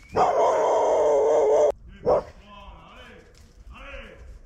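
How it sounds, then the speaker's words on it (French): A big dog gives a loud, sustained bark-like burst lasting over a second, then one short bark, followed by quieter speech. "Mais ouh, il y a un gros chien."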